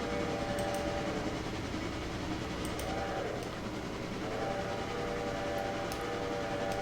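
Train running in the video game Railroader: a steady, moderately quiet rumble of rolling stock with faint rhythmic clicking of wheels over rail joints, continuous throughout with no talk.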